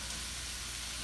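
A loud, continuous sizzle of chicken fajitas searing on a hot skillet, dense and unbroken, with no talking.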